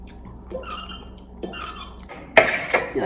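Dishes, pots and cutlery clatter during kitchen cleanup after cooking, with scattered clinks and scrapes and a sharper burst of clanking near the end.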